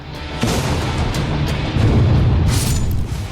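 Bombing explosion at Al Hodeidah port in Yemen, a heavy deep boom with a sharp onset followed by a second rolling blast, loud and unaccompanied by speech.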